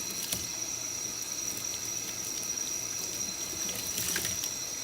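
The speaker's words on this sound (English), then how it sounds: "So if this is your last time rinsing it, make sure you get all of the air filter cleaner out." A dirt bike's foam air filter is rinsed under running tap water, producing a steady, even hiss of flowing water with a few light splashes, close up and with no talking.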